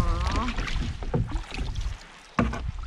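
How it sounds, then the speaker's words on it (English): A canoe paddle works the water on Lake Insula in the Boundary Waters, with close splashes and gurgling strokes over soft wind, and a sharp knock of the paddle near the end. "Good shot of me paddling"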